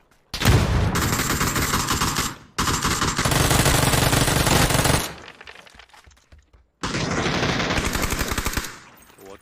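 Video game battle gunfire: long bursts of rapid automatic fire, loud and close, broken by a short pause and a quieter stretch before another burst, with no clear talking over it.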